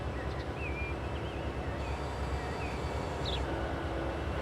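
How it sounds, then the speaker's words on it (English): An ore train rumbles past in Transport Fever 2 at Marias Pass, a steady low mechanical drone of rolling wagons with faint higher tonal whines and squeals over the top, continuous throughout. "Here comes an ore train as well,"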